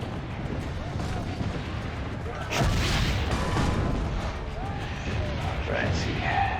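A cannon fires in Assassin's Creed: Brotherhood, a heavy broadband boom that bursts in partway through and rumbles on beneath a dense, noisy in-game soundscape, with voices present.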